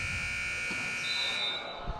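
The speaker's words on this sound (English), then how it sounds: "And you're going to hear the horn." A basketball game's horn buzzer sounds at a boys' high school game, a steady electric tone sustained for about two seconds over faint crowd and court noise.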